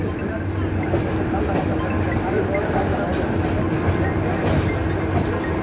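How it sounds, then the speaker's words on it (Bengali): The Mohanagar Express train passes the outer approach of Kamalapur railway station in Dhaka with a steady, moderately distant rumble and rattle of wagons, and faint clatter over the rails. "কমলাপুর রেল স্টেশনের আউটার ক্রস করে যাচ্ছে মহানগর এক্সপ্রেস ট্রেনটি"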